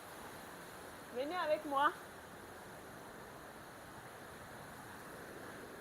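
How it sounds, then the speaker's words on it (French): Sea waves make a soft, steady, distant wash, and a short spoken phrase briefly rises over it. "Et le bruit de la mer nous fait du bien."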